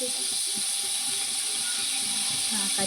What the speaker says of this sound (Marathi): तेल टाकून त्याच्यामध्ये मी मोहरी टाकणार आहे